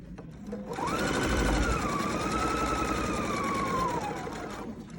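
A sewing machine runs one continuous, close stitching pass along a lined pocket seam at a 1/4 inch allowance, its motor whine rising briefly and then holding steady for about three seconds before stopping.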